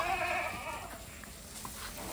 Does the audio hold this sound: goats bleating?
yes